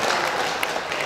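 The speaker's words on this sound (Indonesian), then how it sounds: "Tepuk tangan sikit." Applause from the audience at the DMDI Award 2023 night, a brief, dense wash of clapping heard on its own.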